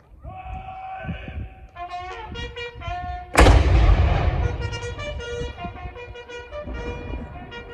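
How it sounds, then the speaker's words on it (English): A single loud cannon shot booms out partway through, a sharp blast with a long rumbling decay, following a stretch of tonal honks or bleating sounds. "Amazing cannon shot."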